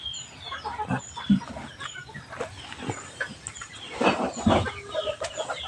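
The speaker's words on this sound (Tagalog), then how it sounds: "Yan po, yung mga manok namin. Oh, native." Native chickens cluck and murmur in a loose, irregular chatter, with a few sharper calls standing out; close by, no voices.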